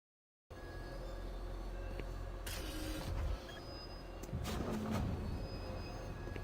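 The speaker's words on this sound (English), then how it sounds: "Guess we have to go on the monorail again." Monorail in Doom 3 running along its track, a steady mechanical hum with electric whine and brief creaking, clanking bursts as the car moves.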